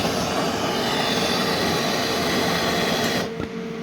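A torch roars steadily as it heats a big alloy truck bumper on a 1980 Volvo F7 before welding, a loud continuous broadband hiss close by that shifts slightly near the end, with no talking.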